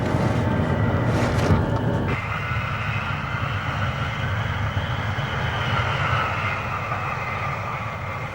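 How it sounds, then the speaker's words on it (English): Jet engines on a Boeing aircraft roar steadily as it taxis out at the Boeing airfield near Seattle in 1954. The broad, sustained rumble and whine continue without a break, and a brighter rushing noise overlays the start. "once you fire up the engines and taxi out for takeoff"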